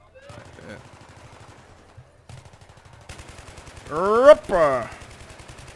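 Gunfire in the Battlefield 3 shooter, a Metro map rush: rapid rhythmic rounds crackle in the background throughout, quiet at first and then busier, while someone talks briefly and another voice calls out over the shooting.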